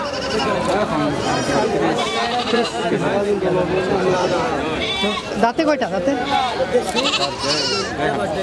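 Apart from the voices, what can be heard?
goat bleating at a goat market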